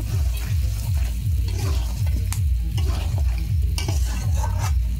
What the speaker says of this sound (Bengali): পেঁয়াজটা দিয়ে আমি আর একটু নেড়ে ছেড়ে নিচ্ছি